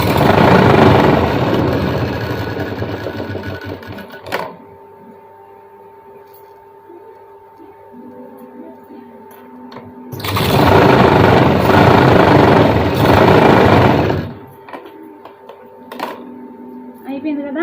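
A sewing machine stitches a blouse in two loud, close bursts of steady running, one at the start and one in the middle, with quieter pauses between where someone talks.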